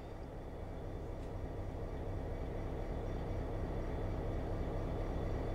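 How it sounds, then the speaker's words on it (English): A train rumbles steadily as a low, continuous drone, moderately faint and distant-sounding, with no one talking. "Oh, train, okay."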